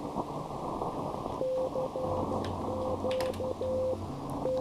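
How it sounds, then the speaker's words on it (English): Static crashes from thunderstorms crackle steadily across an 80-meter amateur radio band, a dense hiss with brief sharp bursts, while faint steady Morse tones beep intermittently in the background. "It's so nice to get on 80 meters and not have to worry about like a bajillion static crashes because of these storms,"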